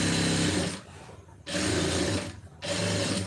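A sewing machine stitches a lined blouse in steady mechanical bursts, running twice with a short pause between, close and fairly loud with no talking.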